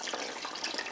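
Water poured into a container to rehydrate the stem-holding base of a foam-free floral tribute, giving a steady, close splashing trickle that continues throughout with no talk.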